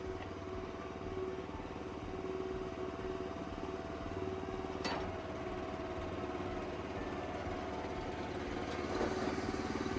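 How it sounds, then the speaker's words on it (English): Firewood processor hydraulic ram running at idle, a steady low mechanical hum with faint clatter and a couple of brief clicks, continuous and moderately distant, with no talk. "And finally, the ram itself on its own."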